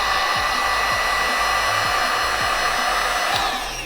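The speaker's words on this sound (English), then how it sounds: "I'm just gonna use my heat gun." A heat gun blows steadily on clay mug handles to dry them, a loud continuous whooshing roar that holds even throughout and tails off slightly at the end, with no voices.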